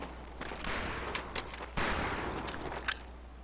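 Bursts of automatic fire from an M1928A1 Thompson submachine gun in the shooter game Medal of Honor: Pacific Assault, sounding as two dense volleys with a brief gap between them, moderately loud with no talk.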